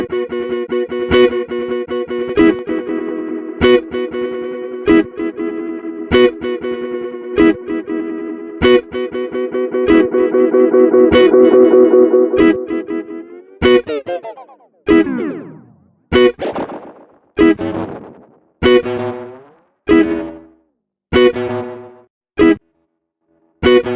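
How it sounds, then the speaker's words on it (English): A guitar run through a classic digital delay plugin plays sustained notes and chords, then sharp plucked stabs with repeating echo tails, clear and prominent, with no talk. "the primetime delay, which is a classic digital delay with some powerful performance and sound design capabilities"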